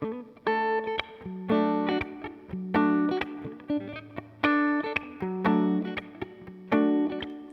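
A clean electric guitar tone from a Line 6 Helix preset plays ringing chords and single notes in a steady rhythm, bright and close with a light reverb tail.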